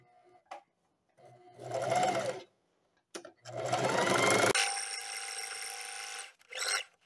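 A sewing machine runs a straight seam with backstitching at the start and end, short whirring bursts separated by pauses, then a longer steady run, close and alone.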